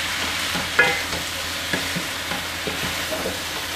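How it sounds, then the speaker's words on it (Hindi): Cabbage and vegetables stir-fried over medium heat for egg fried rice: a steady close sizzle broken by repeated spatula scrapes and clinks against the pan, with no talking. "अब हम इनको मीडियम हीट पर थोड़ी देर के लिए स्टायर फ्राई करेंगे।"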